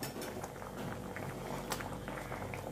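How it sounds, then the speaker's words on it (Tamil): Drumstick sambar bubbling away in a pot on the stove, a steady, soft simmering patter with small pops and occasional light clinks, no voices. "பாருங்கள் எந்த அளவுக்கு கொதிக்குது பாருங்கள்."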